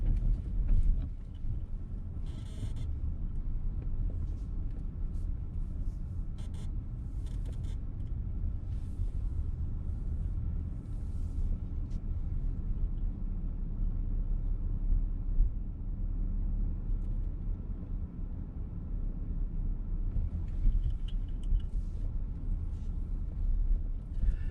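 A VW T-Roc drives slowly into a parking lot, a steady low engine and road rumble heard from inside the cabin, with faint clicks and rustles over the top.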